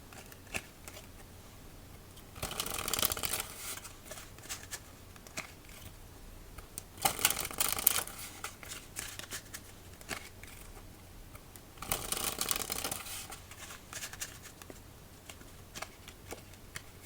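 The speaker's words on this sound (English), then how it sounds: "One more riffle shuffle" Metalluxe Bee playing cards being riffle shuffled, three distinct bursts of crisp fluttering card riffles spaced apart, close and quiet with light handling noise between.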